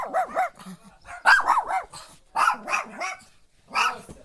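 A dog barks repeatedly and aggressively up close at a house in Kherson region, a rapid series of sharp, loud barks with short pauses between bursts.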